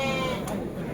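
Sheep bleating at a busy livestock bazaar in Shymbay, a brief single bleat amid dense market crowd noise and talk.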